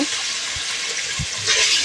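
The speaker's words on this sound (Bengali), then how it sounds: "এখন হালকা পরিমাণে একটু পানি দিয়ে দিব।" A little water poured into chicken korma masala cooking in a pan, a brief splashy hiss that swells near the end over a steady frying background.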